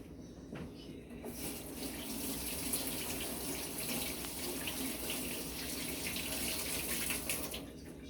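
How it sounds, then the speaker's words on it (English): Kitchen tap running steadily into a sink while hands are washed beneath it, a continuous hissing water stream that starts after a short quiet moment, close and fairly soft, with no speech. "Always wash your hands between everything."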